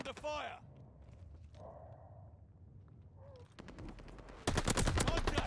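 Video game gunfire at a hardpoint: sharp rapid bursts of automatic shots crack in close near the end after quieter stretches with brief radio-style voices.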